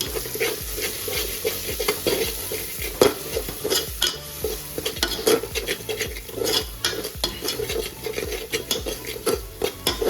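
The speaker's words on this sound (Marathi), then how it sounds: "इथे सुके मसाले आपण परतून घेऊया." Dry spices and melted tomato sauté in an oiled pan, giving a constant close sizzle under quick, busy scraping and stirring strokes that continue without pause throughout.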